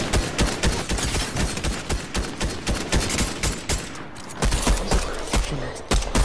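Gunfire in a shooting video game: rapid loud close shots in quick irregular bursts, a short pause near the middle, then more shots, with no speech.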